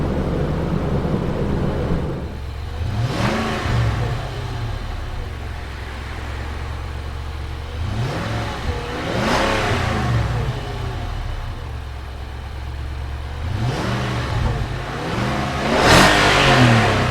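2017 Nissan Armada with its 5.6-liter Endurance V8 accelerating hard several times in succession, each run a loud rising engine roar that swells and fades as the SUV passes, with no talk.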